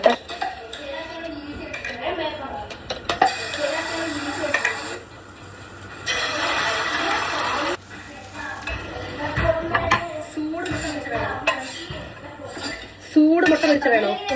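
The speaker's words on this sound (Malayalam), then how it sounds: "മുട്ട ഇങ്ങനെ അടിച്ച് പതപ്പിച്ചിട്ടേ ഉപ്പിടാവും" Eggs are beaten in a bowl with a utensil, quick clinking and scraping strokes in bursts, close up, along with pan and cutlery clatter and someone talking over much of it.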